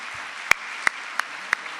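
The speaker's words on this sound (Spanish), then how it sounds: "Fuerte el aplauso." An audience applauds a speaker at a mental health talk, with a steady wash of clapping and a few sharp, distinct claps standing out near the microphone.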